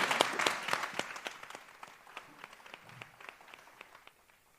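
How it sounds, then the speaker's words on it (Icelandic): A small audience claps at the close of a university seminar, brisk individual claps that sound fairly near, then thin out and fade toward the end. "bara gefið þeim gott klapp"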